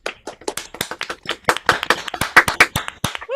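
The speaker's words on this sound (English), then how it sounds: "how about another round of applause and congratulations for all of our outstanding students" Applause from an audience at a university music department awards ceremony, honouring outstanding music students: a dense round of clapping, steady and fairly close, with no talk over it.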